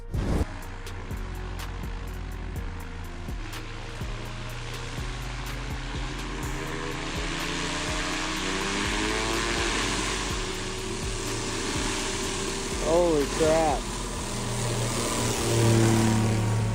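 A STOL bush plane's propeller engine drones loudly and builds in pitch and power, rising toward the end, while a person briefly exclaims.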